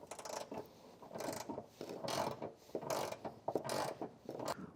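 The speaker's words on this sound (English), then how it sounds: "This is a 10mm socket to get this taken off, or at least loosened" A ratchet with a 10mm socket works a bolt on a 2023 Toyota Tacoma, giving several bursts of quiet clicking strokes with short pauses between them. The sound is close but faint.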